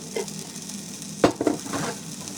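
Garlic sizzling in butter in a pan, a soft continuous crackle with a few sharp spoon scrapes and stirring clatters.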